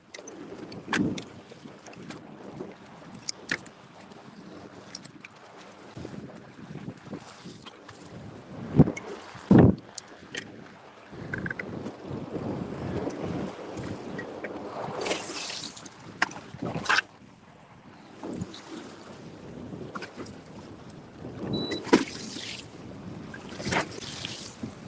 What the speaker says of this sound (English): I know you guys can hear that wind, right?